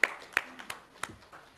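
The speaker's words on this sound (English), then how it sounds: "Please keep the applause going" Sparse, scattered hand claps from a conference audience at the India Internet Governance Forum, a few distinct loud claps followed by fainter ones as the applause thins out.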